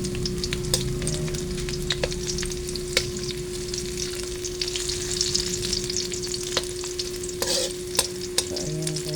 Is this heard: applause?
no